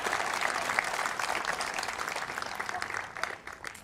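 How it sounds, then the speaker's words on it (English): Applause from a church or conference audience after a bishop mentions confirming about 15,000 young people; fairly faint, steady crowd clapping heard from a distance for a few seconds. "I'll take the applause"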